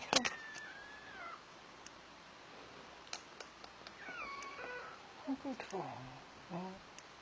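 A kitten meowing in short, faint mewing calls scattered across the stretch, several rising and falling cries, quiet and close, with a person talking softly in between.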